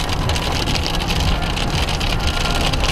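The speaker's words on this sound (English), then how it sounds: "It started raining really hard." Heavy rain of big drops pounding down hard in Durango, Colorado, a loud, dense, steady hiss and patter with a low rumble.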